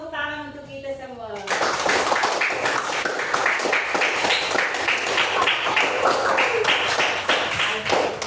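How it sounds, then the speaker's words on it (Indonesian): A class of schoolchildren clapping hands together, a dense burst of loud, close applause that starts abruptly after a brief spoken line and carries on steadily for several seconds. "Tepuk tangan untuk kita semua."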